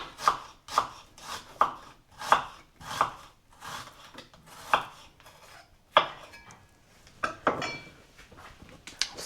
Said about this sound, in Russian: лука полуколечками нарежу.